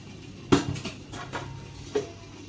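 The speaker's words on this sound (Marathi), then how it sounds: "आता थोडंसं असं पातेल्याला तेल लावून घ्यायचं" A metal cooking pot being handled while oil is rubbed onto it before boiling water for ragi husk papad, giving a sharp clank, softer knocks and a second clink, near and alone.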